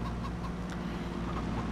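Chickens clucking on a farm in the video game Farming Simulator 22, a few short clucks over a constant low engine drone from a forklift and trailer.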